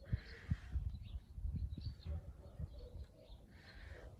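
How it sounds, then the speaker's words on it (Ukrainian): Birds chirp and call outdoors, with soft coos and intermittent tweets over low background rustle, moderately near. "Як гарно співають пташки."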